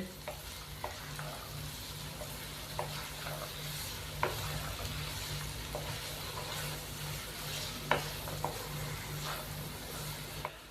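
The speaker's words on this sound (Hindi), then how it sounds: "गाजर शामिल करने के बाद हम इसको अच्छे से मिक्स कर देंगे" About half a kilo of carrots is stirred and fried in a pan: a constant sizzle under repeated scraping strokes, with occasional sharp clacks of the utensil against the pan. No one speaks.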